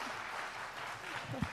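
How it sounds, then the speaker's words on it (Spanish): Faint, distant applause from an audience at a local music awards ceremony, a soft steady patter of clapping with a brief voice near the end. "¡Otro aplauso!"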